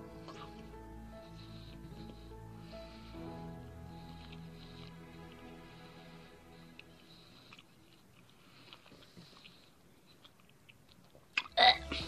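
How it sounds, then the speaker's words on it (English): Someone chews food after having molars taken out, producing soft wet squishing and mouth sounds that continue steadily, with a louder burst near the end. "Sorry if you can hear me chew."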